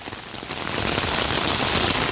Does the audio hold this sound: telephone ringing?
no